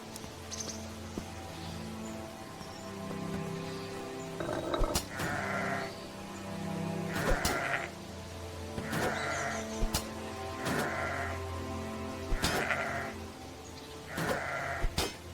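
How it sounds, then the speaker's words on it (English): Sheep bleat repeatedly in the fantasy video game The Black Grimoire: Cursebreaker, several short nasal baas at roughly regular intervals over a droning background score with soft clicks, moderately loud and without talk. "you have to kill so many sheep just to get the amount of sheepskin that you would need"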